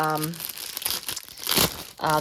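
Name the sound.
crinkling vinyl sheet from a Kimberbell sewing kit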